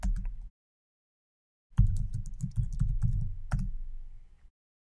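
Fingers typing a command on a computer keyboard, close and clear, with a quick burst of keystrokes, a pause, then a longer run of rapid clicks in a quiet room.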